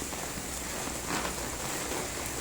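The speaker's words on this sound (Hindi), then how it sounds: "इतनी तेज़ बारिश हुई ना" Heavy rain pouring down on a village road, a dense, steady hiss that stays loud and even throughout with no pauses.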